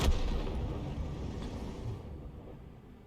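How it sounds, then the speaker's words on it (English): In a tank video game, an artillery shell fires and strikes an enemy tank's engine bay with a deep, heavy boom that rumbles and fades over a few seconds. "Rounds out and direct hit right into the engine bay."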